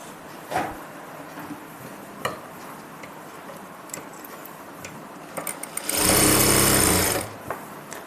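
Sewing machine stitching a pocket onto a salwar, heard as a single loud, steady run of motor whir lasting about a second, set among quieter scattered clicks and handling taps.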